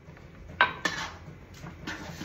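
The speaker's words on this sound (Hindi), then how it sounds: "इसमें ऊपर डालूंगी और मैं इसको अच्छे से मिलाऊंगी।" Garlic and chilli paste being stirred into a dish with a spoon, a couple of sharp metal clinks against the pot followed by lighter scraping and mixing sounds, close and alone.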